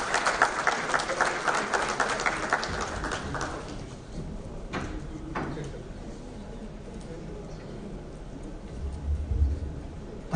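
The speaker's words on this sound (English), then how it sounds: "Round of applause for him." Audience at the Sportstar West Sports Conclave in Ahmedabad applauding warmly for about four seconds before the clapping dies away into a quiet hall with faint voices.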